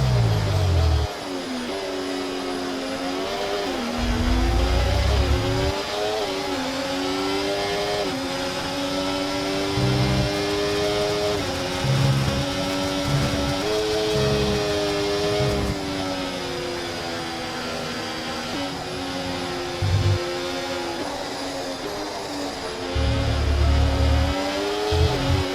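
A Formula 1 car in the F1 24 racing game screams through its gears, the high engine whine rising and dropping with repeated upshifts and downshifts over a long lap stretch, loud and close with no speech.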